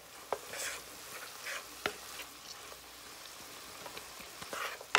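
Shepherd's pie filling of meat and vegetables cooking down in a pan, giving a quiet, steady sizzle broken by occasional sharp clicks and scrapes of stirring, with no voices.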